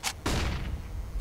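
A CS:GO flashbang grenade goes off with a short bright hiss followed by a loud, booming blast that rings out and slowly decays.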